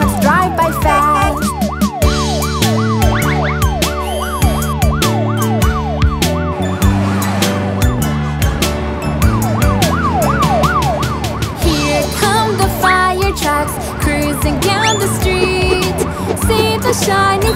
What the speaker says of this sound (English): Hear the sirens shout real loud, let our trucks move past.